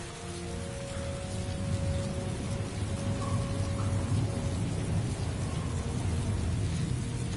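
Rain falling in the video game Heavy Rain, a steady, dense patter that holds at an even loudness through the whole stretch with no voices over it.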